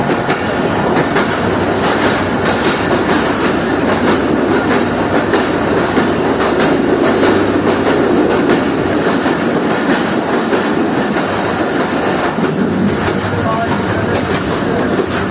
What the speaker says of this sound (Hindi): अब से कुछ देर में हमारी ट्रेन सेकंड टनल में एंटर होने जा रही है